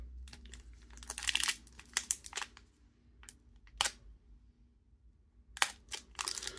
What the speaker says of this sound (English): These packs are a lot harder to open.